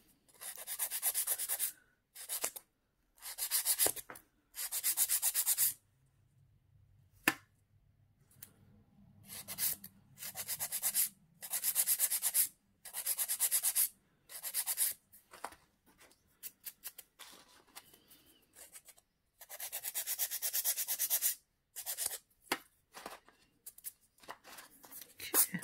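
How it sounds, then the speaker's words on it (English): Acrygel nails being filed, a run of short, fine rasping strokes in repeated bursts with brief pauses between them, close and fairly crisp, and a little talk in places. "you can see it's a lot softer and finer, the filing, than acrylic is."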